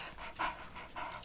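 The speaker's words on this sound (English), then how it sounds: "Yes, I'm sorry about the dog panting sounds." A dog pants close by, quick breathy huffs in an uneven rhythm, soft and intimate with no talking.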